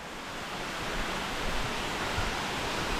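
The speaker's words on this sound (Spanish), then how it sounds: "miren otra cascada, ya son como 3-4 cascadas las que estamos viendo que salen de entre las piedras de" Waterfalls cascading down from between the rocks at a remote spot in Jalisco, heard as a steady, dense roar of falling water that holds level throughout, with no voices.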